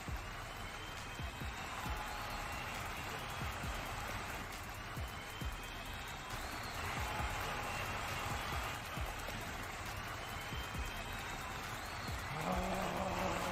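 Stadium crowd cheering in the Madden 22 football video game, a dense continuous roar like rushing rain that holds steady and swells slightly near the end, with no talking.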